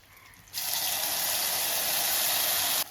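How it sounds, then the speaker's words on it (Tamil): Water pouring into a pan of vadai mor kuzhambu curry, a sudden steady gushing splash that starts after a brief pause and stops abruptly near the end. "இதில் தண்ணி சேர்த்துப்போம்"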